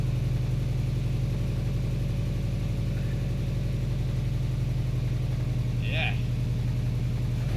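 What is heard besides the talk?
car engine idling and revving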